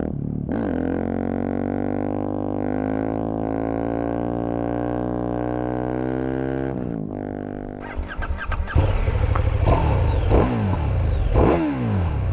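A 2022 KTM Super Duke GT touring motorcycle holds a steady, throaty idle-like drone for several seconds, then revs hard and rises and falls in loud, rough bursts, close by.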